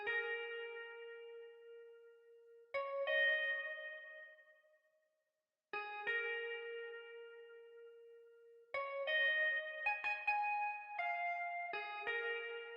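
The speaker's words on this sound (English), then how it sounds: "Then after that I wanted to add like this very vintage guitar that just sounds like this." Vintage guitar with a wah effect from an 80s RnB sample plays clean, sparse notes and chords in a slow rhythm, each ringing out and decaying with an echoey tail, fairly quiet and alone.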